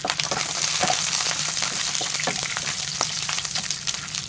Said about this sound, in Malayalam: ആദ്യം നമുക്ക് ചെറിയ ഉള്ളി വറ്റൽമുളക് കറിവേപ്പില ഇവയെ ചൂടായ എണ്ണയിലോട്ട് എടുക്കാം